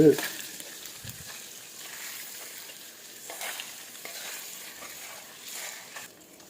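Sliced onions sizzle in hot oil in a pan while cooking paneer biryani, a steady quiet crackle broken by occasional stirring scrapes.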